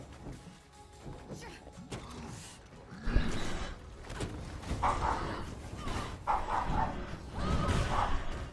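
A dog barks several times in a room during a gaming live stream, sharp yips and bow-wows scattered through the stretch, moderately loud and mixed with some background clatter.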